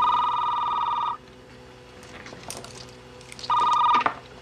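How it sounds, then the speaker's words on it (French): An old-style telephone bell rings in two bursts, one long ring, a pause with faint room noise, then a second ring that cuts off abruptly. "Vinny, je te téléphone."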